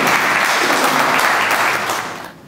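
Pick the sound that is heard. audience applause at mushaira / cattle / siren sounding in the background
audience applause at mushaira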